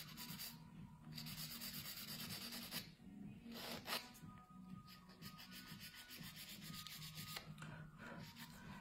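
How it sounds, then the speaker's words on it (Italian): A nail is filed with an Extreme Blue file in continuous quiet, close scraping strokes, rhythmic and fine-grained, with no talking. "Utilizzo una lima Extreme Blue con cui andrò a definire tutta la linea della"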